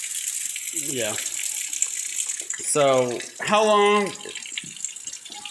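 Hot water running steadily from a tap into a sink, a constant hiss that persists while people talk over it.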